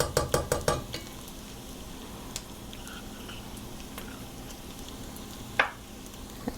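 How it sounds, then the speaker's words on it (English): A spoon stirs tomato paste into Irish beef stew in a pot, with a quick run of sharp clinks against the pot at first, then quieter scraping and an occasional single knock. "So now we want to stir in 2 tablespoons of tomato paste."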